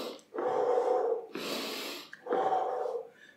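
Heavy breathing during a leg and glute workout without jumping comes as three long forceful breaths, in and out through nose and mouth, loud and close with short pauses between.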